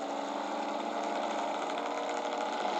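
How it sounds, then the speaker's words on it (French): The engine of the number 27 Spice racing car, crawling slowly at Mulsanne during the 1993 Le Mans 24 Hours with an apparent engine problem, gives a steady, low, droning hum with no revving and no other sounds. "Spice au ralenti à Mulsanne."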